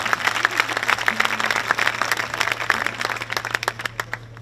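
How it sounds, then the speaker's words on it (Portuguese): An audience claps through a live concert at a book fair, a dense, steady patter of many hands at moderate distance, with a low constant hum beneath. "agradeça para as pessoas que estão a aplaudir"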